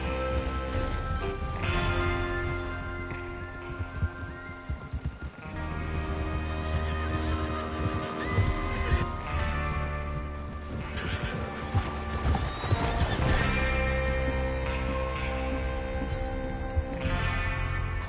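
Horses whinny and hooves clop beneath a loud, continuous game music score in Red Dead Redemption 2, with bursts of activity and some voices mixed in.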